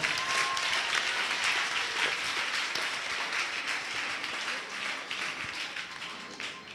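Sustained applause from a congregation at a French-speaking prophetic healing church service led by Bishop Cesar Kassie, dense steady clapping filling the room, loud and continuous with faint background voices.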